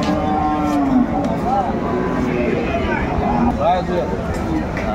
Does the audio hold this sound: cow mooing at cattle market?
yes